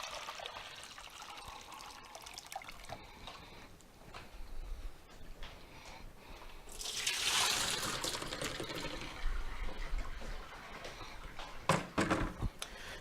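No-rinse sanitizer solution trickling from a fermenter spigot and pouring into a bowl, a steady liquid splash that swells into a louder pour midway, with a few clunks near the end.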